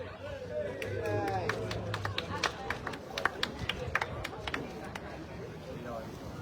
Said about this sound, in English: Guys, cheering! Cheering!